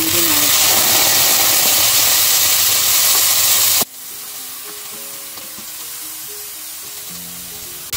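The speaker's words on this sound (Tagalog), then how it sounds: "Then, lalagyan ko na siya ng cooking oil. Yan. Then, isasabay-sabayin ko na siyang gisahin." Pork and other ingredients sizzle loudly in cooking oil while being stirred in a pan, a dense close frying hiss for the first half before dropping to a quieter simmer with faint talk.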